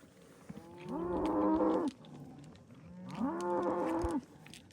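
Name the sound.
cow mooing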